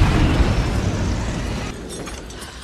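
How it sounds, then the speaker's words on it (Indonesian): Big explosion in a film, a loud dense boom with rumbling debris that decays over a couple of seconds, no talk. "ledakan besar."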